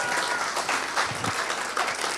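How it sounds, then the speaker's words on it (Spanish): A church congregation claps together at a Spanish-language preaching service, a dense, steady wash of hand claps filling the space from start to finish. "Da el aplauso."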